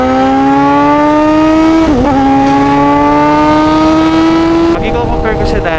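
Kawasaki Z1000 motorcycle with a remapped exhaust, held at a high steady rev with a brief dip and recovery midway, then cut off sharply near the end, loud and close.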